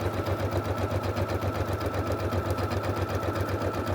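A sewing machine stitches quilting lines with a fast, even mechanical whirr and rapid rhythmic needle clatter, close and steady throughout, with no voices.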